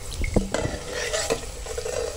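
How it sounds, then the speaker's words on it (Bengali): Corn kernels fry over low heat in a pan for crispy spicy corn chaat, with a spatula stirring and scraping against the pan: close clinks and knocks over a soft continuous sizzle, no voices. "2-3 মিনিট সময় ধরে একটু ভেজে নিতে হবে"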